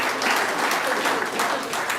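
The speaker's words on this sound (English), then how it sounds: "I think that applause deserves to be stronger and better." A crowd at an Institute of Chartered Accountants of Nigeria ceremony applauds loudly for the institute's president. The dense, close clapping rolls on steadily, with faint voices mixed in.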